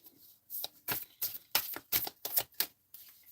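Oracle cards being shuffled by hand, a series of soft, quick riffling bursts in an uneven rhythm, close and fairly quiet, with no talking.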